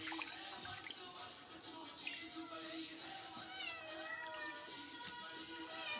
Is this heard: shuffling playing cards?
no